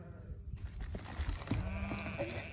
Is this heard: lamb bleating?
yes